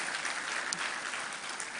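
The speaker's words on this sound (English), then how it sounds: "better round of applause for Her Excellency" Auditorium audience at a matriculation ceremony clapping briskly in a steady, dense burst of applause that holds at even loudness without pause.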